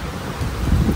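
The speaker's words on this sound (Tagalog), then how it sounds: "Kahit umuulan," Steady rain falls during Typhoon Kristine at the Highview Hacienda subdivision, a dense, continuous wash of noise with a low rumble, heard close and fairly loud with no voices.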